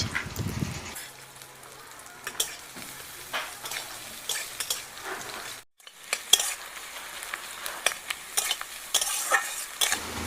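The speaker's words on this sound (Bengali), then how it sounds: "পেঁয়াজ খুব ভালোভাবে ভেজে নেব।" Chopped onions fry in hot oil in a kadai for a chicken roll, with a spatula scraping and stirring in repeated strokes over a soft, steady sizzle, close by, with no talking.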